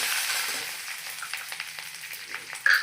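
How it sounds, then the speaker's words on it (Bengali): Black mustard seeds, curry leaves, bay leaves and dried red chillies frying in hot oil as they are stirred, a soft steady sizzle with light crackles and a sharp spoon scrape near the end. "আর কেরিয়া পাতা দেবো, তেজপাতা, আর কালো সরিষা দেবো। তো কালো সরিষা দিয়ে ভালো করে আমি নেড়ে দিই।"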